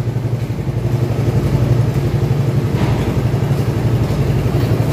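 Motorcycle engine running steadily in a low, rhythmic throb, close and loud, idling or ticking over without revving for the full five seconds.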